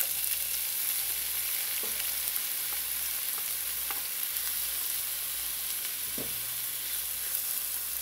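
Diced tomato stirred into onions softened in hot oil in a pan, a steady, loud, even sizzle that carries through the whole stretch with a few faint clinks of a utensil and no talking.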